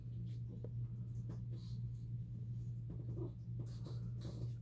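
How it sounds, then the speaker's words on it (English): A pet dog whimpers faintly in the background of an indoor room, with short soft whines over a steady low electrical hum. "sorry if you can hear the background noise. It's my dog."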